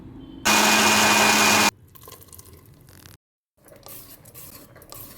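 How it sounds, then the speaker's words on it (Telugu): A kitchen mixer grinder grinds soaked dosa batter with water added, a loud, dense whirring burst of about a second and a half near the start, then quieter clatter and handling with a short silence before more faint movement. "వాటర్ వేసుకొని ఇప్పుడు దీన్ని మెత్తగా మిక్సీ పట్టుకోవాలి"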